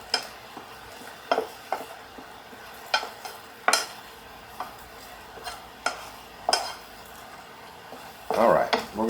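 A spoon stirs a drying mixture in a pan for Easter Peeps in sheets, giving irregular scraping clacks with a soft sizzle, close and moderately loud, with a brief voice near the end.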